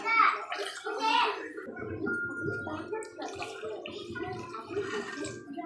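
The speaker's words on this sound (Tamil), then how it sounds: "இப்போ தண்ணி சேர்த்துக்கலாம்" Water splashing into a pan of kurma cooking on a stove, a running, gurgling pour heard beneath continuous talking.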